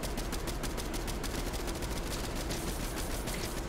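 Rapid automatic gunfire from Fortnite rattles without pause, a dense, loud stream of shots filling the whole stretch with no voices.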